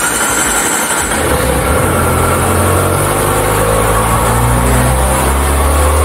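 A ZX25R motorcycle engine idles while warming up, with a steady low rumble, loud and continuous without any voices.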